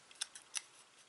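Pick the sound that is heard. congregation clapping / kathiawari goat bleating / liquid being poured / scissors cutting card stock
scissors cutting card stock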